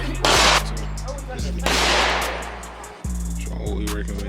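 Gunfire at an outdoor gun range, reportedly firing explosive rounds: several loud, sharp shots ring out close by, with a heavy steady rumble underneath and brief pauses between bursts.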